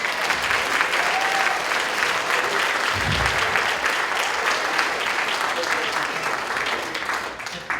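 Church audience gives a sustained round of clapping, loud and even for several seconds, with a few voices mixed in and a gradual easing toward the end.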